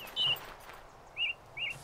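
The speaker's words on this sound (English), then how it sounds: "listen to the birds." Bird chirps in the video game Yonder: The Cloud Catcher Chronicles, three short bright tweets spaced apart over quiet ambient background.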